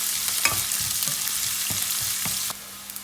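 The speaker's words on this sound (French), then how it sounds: "Je fais dorer légèrement les oignons pendant 2 minutes." Chopped onions frying and browning in hot oil in a pan for an Indian fried chicken dish: a steady, close sizzle with a few light clicks of stirring, and the hiss drops slightly near the end.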